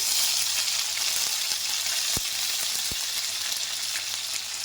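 Green chillies and mint frying in hot oil in a pan, a loud, steady hiss and crackle close by, with two sharp knocks partway through and no talk.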